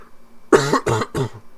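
Three harsh coughs in quick succession, close and fairly loud, with brief pauses between them and no talking.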